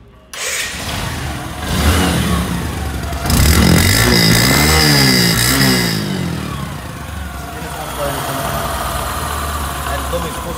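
A motorcycle engine, shown for its sound at a used bike dealer, starts up and idles close by, then revs in rising and falling sweeps before settling back to a steady idle, with someone talking over it.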